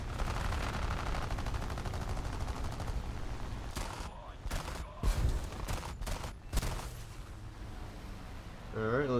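An aircraft's machine guns fire in War Thunder at a P-40 fighter, the short rattling bursts cutting over a steady engine drone while a player talks.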